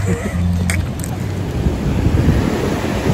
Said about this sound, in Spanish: Acá está la playa Punta Cana.